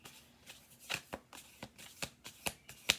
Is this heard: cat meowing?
no